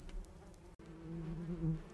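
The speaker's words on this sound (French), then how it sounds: "Je ne veux pas finir piqué à mort par des abeilles." Bees buzzing in a farm video game, a faint close drone with a brief cut in the middle, heard alone.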